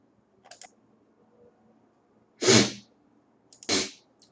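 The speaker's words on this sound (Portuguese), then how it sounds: "deu um espirro aqui" Two sharp, loud sneezes burst out close by in a quiet room, about a second apart. Faint clicks of keyboard typing come just before them.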